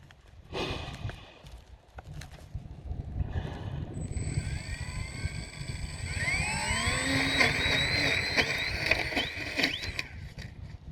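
Small model Su-26 aerobatic airplane's electric motor spinning a thick three-blade propeller, rising from a few short bursts into a sustained, climbing whine with shifting pitch, close by and moderately loud, with no talking.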